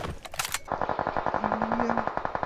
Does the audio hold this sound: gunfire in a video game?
yes